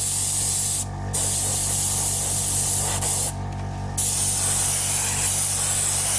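A spray can of black paint hisses in two short bursts onto a scale model, each blast loud and close, separated by brief pauses over a steady background hum.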